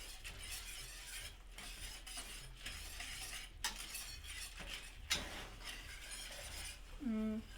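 Saffron risotto stirred in a pot for Risotto Milanese, a steady soft scraping and swishing of a spoon through thick rice, with occasional clinks against the pot and a brief sizzle near the end.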